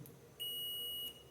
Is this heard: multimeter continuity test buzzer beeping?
yes